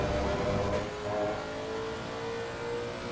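A race car engine in a video game endurance race at Spa hums and revs at a sustained high pitch, steady and close, with a slight rise in tone partway through.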